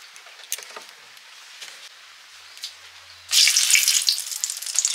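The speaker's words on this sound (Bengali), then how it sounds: "কাঁচকলাগুলো ভেজে নেব। সর্ষের তেল দিয়ে দিলাম" Mustard oil heating in a pan bursts into a loud sizzle partway through, after a quieter stretch of faint clinks and kitchen sounds; close, with no talk.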